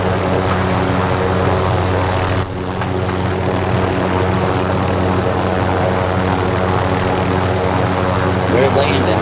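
A propeller aircraft drones loudly and steadily with a constant engine hum while coming in to land, people talking over the noise.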